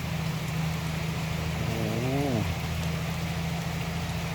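A loud Isuzu truck engine passing on a road in heavy rain, a low rumbling drone that swells with a rising then falling pitch sweep midway, over steady rain hiss and traffic noise.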